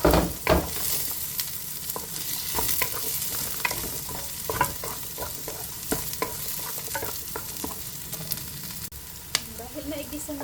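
Onion, ginger and garlic sauté in a pan for Bicol express, a close crackling sizzle punctuated by frequent sharp clicks and scrapes of a stirring spoon.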